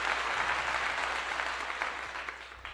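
Audience applause for a college football player after a Colorado versus Oregon State game, a steady wash of clapping at moderate distance that carries through the whole stretch and thins slightly near the end.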